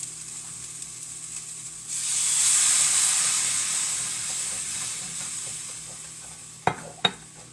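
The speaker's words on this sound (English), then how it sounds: "continuously stirring, scraping up the brown bits, get that flour all mixed in" Flour is stirred into a hot pan of Tuscan chicken drippings, and a steady sizzle swells into a loud hiss midway. Near the end a spoon scrapes the bottom, with a couple of sharp clinks.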